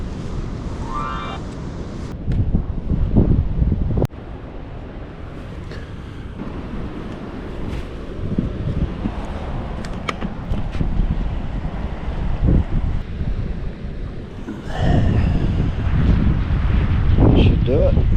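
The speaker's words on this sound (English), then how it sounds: "So windy tonight." Strong night gusts of wind roar and buffet the microphone in uneven surges in Tasmania, with brief voices talking beneath the rush.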